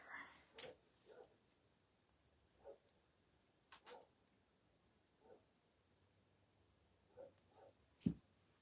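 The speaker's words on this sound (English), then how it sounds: "I don't know what these dogs are barking at." Faint, distant dog barks come in scattered bursts over a quiet background, a few isolated woofs spaced irregularly.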